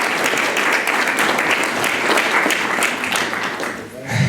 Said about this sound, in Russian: И я еще раз хочу, чтобы вы поаплодировали Николаю Федоровичу Гаврилову